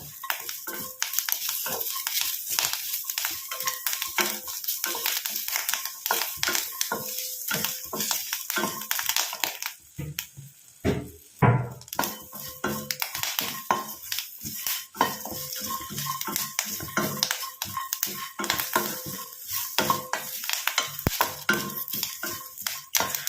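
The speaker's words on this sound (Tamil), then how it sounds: "தேங்காய் நல்லா கருன்னு வர வரைக்கும் நம்ம இதை கரிச்சு எடுத்துக்கணும்" Curry leaves and dry coconut roast in a pan while a utensil stirs them, a near constant gritty scraping and clinking of metal against the pan over a faint sizzle, close and steady with no talking.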